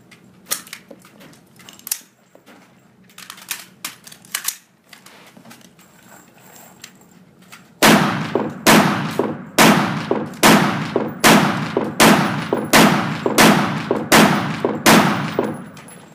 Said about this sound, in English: fire 10 rounds at 100